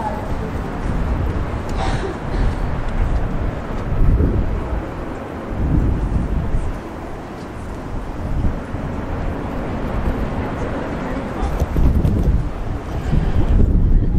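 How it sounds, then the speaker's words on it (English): Strong wind buffets a microphone outdoors at a Sydney, Australia conference venue, a steady loud low roar with gusty swells throughout and no clear voices. "Sorry, it's a little windy."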